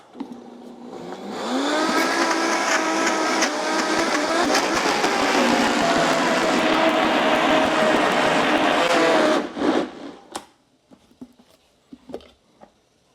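A blender blending thick hummus runs loud and close for several seconds with a rough, labouring whir, then cuts off, leaving a few clunks and taps.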